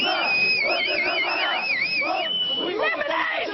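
An angry crowd in Kasserine, Tunisia, shouting and crying out together in a dense, continuous roar, with high, wavering voices rising above the mass of close, loud talk.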